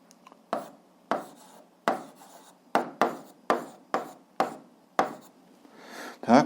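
A pen writing out an algebra solution by hand on paper, with short scratchy strokes repeating in a fairly even rhythm, each starting sharply and trailing off. A louder rub comes at the end.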